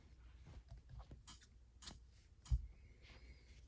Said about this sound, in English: Let me just get my scissors here.